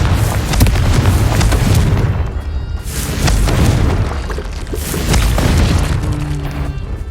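Confringo explosion spells cast in the video game Hogwarts Legacy, three heavy booming blasts with crashing debris, each swelling and fading in turn, loud and close over continuous game noise.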